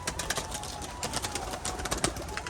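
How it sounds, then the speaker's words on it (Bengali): Racing pigeons at a home loft being let out, a busy flurry of flapping wings and rustling with faint cooing mixed in, steady and fairly close. "পায়রা সব পাগল হয়ে গেছে"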